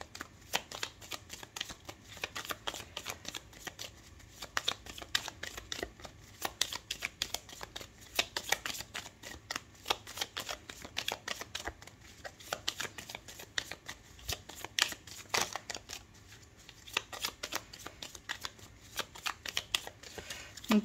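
Tarot cards shuffled by hand, rapid riffling flutters and papery slaps repeating in quick bursts throughout, close and soft, with faint talk occasionally beneath.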